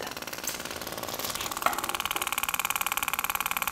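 A Vision Machine 2 permanent makeup machine runs its needle in a fast, even buzzing pulse, close and fairly quiet, with a brief knock partway through and the rhythm steadying afterward.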